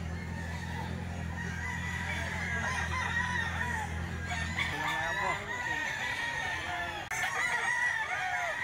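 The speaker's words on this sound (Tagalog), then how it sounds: "Manok mo yan?" A rooster crows and a chicken clucks at a busy outdoor market where a bird is being sold, with close, loud calls over steady crowd murmur and people talking nearby.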